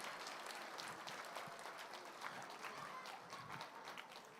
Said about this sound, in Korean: 여러분들 큰 박수로 격려해 주시기 바랍니다